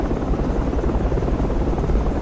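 A transport helicopter in Project Reality roars loud and close, its rotor thumping in a dense, steady drone that fills the whole moment without talk.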